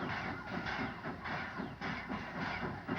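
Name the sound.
steam locomotive engine 4185 backing up to its train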